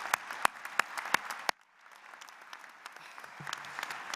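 Scattered applause at an evening college commencement ceremony, a few sharp individual claps up front, then quieter distant clapping trailing off.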